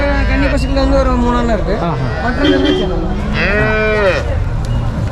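Several cows and heifers moo loudly in long, drawn-out calls, one after another, at a Kerala cattle market, against a busy background of livestock noise and crowd murmur.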